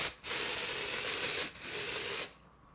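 Two long hissing bursts from an aerosol can of powder spray, separated by a brief pause, close and steady, cutting off cleanly into quiet.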